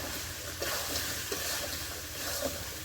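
Potatoes tossed into a pan of country chicken curry sizzle steadily, with soft stirring scrapes and faint bubbling throughout, no voices.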